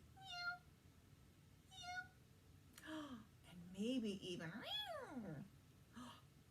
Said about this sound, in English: Did you guess cat?